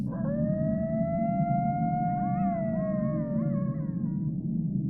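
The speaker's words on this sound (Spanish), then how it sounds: "ya se empezaban a escuchar los primeros aullidos de los coyotes" Coyotes howl at night among dark woods in the countryside: a long sustained wail rising slightly in pitch, then wavering, overlapping yips and bends joining toward the end, over a low steady rumble.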